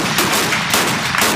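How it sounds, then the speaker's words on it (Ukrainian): Rapid bursts of live-ammunition gunfire at an artillery brigade shooting range, several loud shots in quick succession, close and sharp, with no talking. "Школярам у тирі артбригади вперше дозволили стріляти бойовими набоями."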